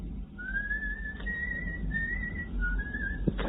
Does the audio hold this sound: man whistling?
yes